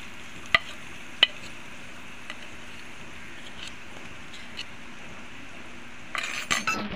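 Turmeric powder, salt and spices fry in heating oil with a steady, soft sizzling hiss, broken by a couple of sharp utensil clicks early on and a busier burst of clattering stirring near the end.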